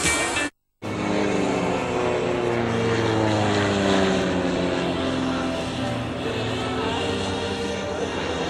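A pair of Twister aerobatic planes flying a display at the Cotswold Airshow in 2010, with a sustained buzzing propeller-engine drone whose pitch slides up and down as they pass, after a brief cut near the start.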